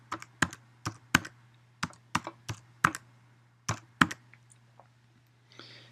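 Fingers typing an IP address on a computer keyboard during router network setup, a steady series of crisp, close key clicks with brief gaps and a soft background hum.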